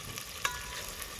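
Chopped green chillies fry in hot oil for spicy Maggi noodles, a faint, steady hiss with one brief clink partway through.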